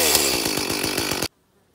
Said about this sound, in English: What a great day for cutting trees down and making some noise.